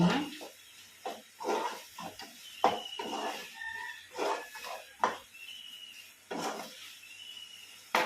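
A spoon or spatula stirring a curd snake gourd stir-fry with coriander and curry leaves in a pan: intermittent scraping strokes against the metal, close and fairly quiet, with pauses between strokes and no talking.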